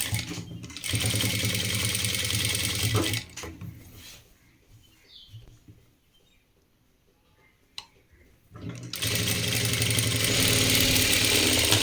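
A sewing machine stitching the back piece of a school uniform runs in steady mechanical bursts at the start and end, with a quiet pause between holding soft handling sounds.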